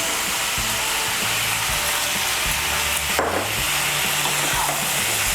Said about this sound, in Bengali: এখন হালকা একটু নাড়াচাড়া করে নিয়ে এর মধ্যে আমি ভেজে রাখা বড়িগুলো দিয়ে দেব।